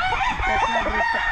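Rooster crowing close by, one loud drawn-out call filling the whole moment, heard without any talk.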